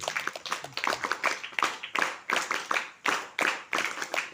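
A group claps together in a small gathering, a dense run of hand claps in bursts with short pauses, fairly close and lively, with no talking.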